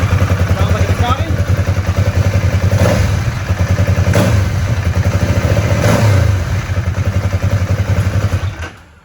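A Vyrus 984 C3 motorcycle engine running steadily with a loud, close, throbbing idle and a few brief revs, continuous throughout and tapering off at the end.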